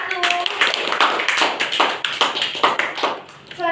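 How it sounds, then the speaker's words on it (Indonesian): Applause for a student group in a classroom microteaching session, a steady patter of hand claps lasting a few seconds, fairly close and lively with uneven bursts. "Beri aplaus untuk kelompok"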